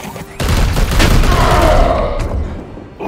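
Sustained volley of gunfire from shooting an enemy in the tactical video game Warhammer 40k: Chaos Gate - Daemonhunters, loud, dense and continuous with booming impacts for about three seconds.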